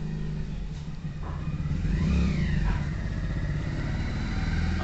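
Old Royal Enfield Bullet motorcycle engine idling steadily and close by after a kick start, with a low thumping chug and a brief rise in revs partway through, no voices.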